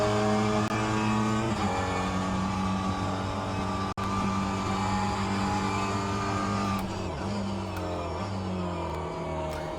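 Mini Cooper engine in rFactor 2 at Sebring, a loud continuous buzzing engine whose pitch steps down and rises again through throttle blips on downshifts, with no talking.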